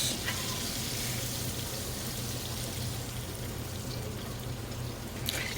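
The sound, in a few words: draining frying oil from fried beef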